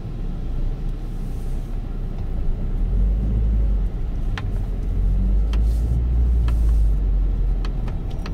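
A car's steady engine rumble and road noise as it drives through narrow back streets between houses in Taguig City, a continuous low drone with a few faint clicks and no talking.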